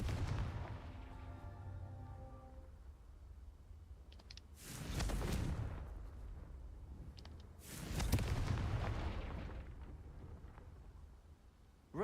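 Confringo fire spell blasts in the Hogwarts Legacy video game, with two heavy booming explosions several seconds apart, each a loud rumbling burst that fades slowly, over a low background hum.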